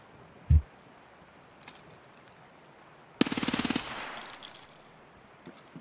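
Automatic gunfire from Escape from Tarkov: one heavy thump early, then a loud close rapid burst of shots about half a second long, trailing off into fainter scattered sounds, with no talking.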